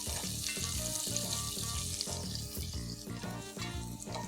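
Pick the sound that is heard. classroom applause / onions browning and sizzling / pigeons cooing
onions browning and sizzling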